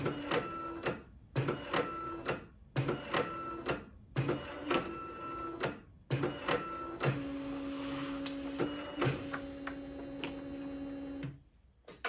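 A 1988 Canon second-generation inkjet printer cleaning its printhead: repeated mechanical bursts of clicking and whirring with short pauses, then a longer buzzing, ticking motor run, close and clear.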